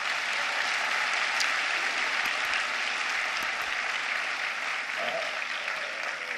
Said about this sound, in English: Give Neha a big round of applause once again.